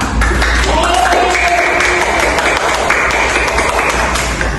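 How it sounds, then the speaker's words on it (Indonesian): Steady, dense applause from students in a primary-school classroom during a microteaching lesson, holding at an even loudness with no talk over it. "Tepuk tangan buat kita semua"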